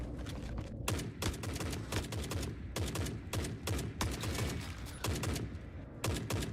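Suppressed gunfire in the shooter Forever Winter: rapid, fairly quiet thumping volleys of shots in quick succession, with a few brief pauses between bursts.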